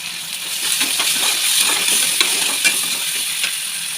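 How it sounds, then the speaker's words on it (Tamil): Steady sizzling of onions and tomatoes sautéing in a pan, with soft stirring scrapes and clinks of a spoon, close and continuous with no talking. "வெங்காயம் நல்லா வதக்கிட்டு கூட தக்காளி போட்டுருங்க."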